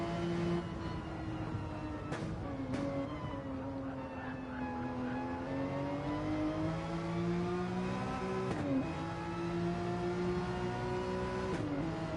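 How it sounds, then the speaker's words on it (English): Onboard a Porsche race car at the Bathurst 12 Hour, the engine drones steadily with rising and falling revs and a few sharp gear shifts, continuous and close with no talk. "onboard sound from the Porsche."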